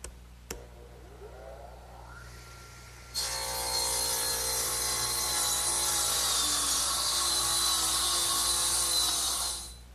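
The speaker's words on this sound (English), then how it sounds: "I think I'll use my radial arm." A radial arm saw cuts wood in a workshop: a brief click, a motor whine spinning up, then a loud, sustained, high-pitched cutting roar that stops abruptly.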